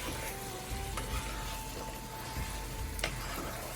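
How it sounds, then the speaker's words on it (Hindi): Cauliflower is mixed into a frying potato curry for aloo gobhi, a quiet steady sizzle under occasional soft stirring scrapes and a couple of light utensil taps, close but low in level, without any speech. "अब इस स्टेज पे आके हम इसमें डाल देंगे गोभी और इसको अच्छी तरीके से हम मिक्स कर लेंगे"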